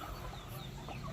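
A Darag native hen clucks softly at close range for a brief moment, with light farmyard background.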